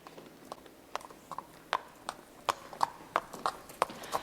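Horse hooves clip-clopping as the animal pulls a loaded wagon, a steady series of sharp, fairly close hoof strikes in an uneven walking rhythm, heard alone without talk.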